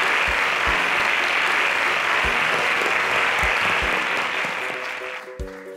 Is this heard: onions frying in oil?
no